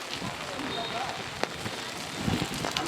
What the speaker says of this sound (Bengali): আবার একটু বৃষ্টি জোরে জোরে পড়ে